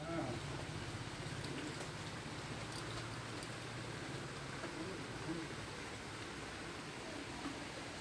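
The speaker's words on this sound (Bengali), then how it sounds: "বৃষ্টি তো পড়ছেই" Steady rain falling outdoors on a day of continuous downpour, a faint, even hiss of drops throughout with no break, heard at a distance and quiet overall.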